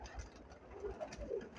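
Pigeons in a loft housing about 120 birds coo softly, with low murmuring calls rising faintly over a quiet background.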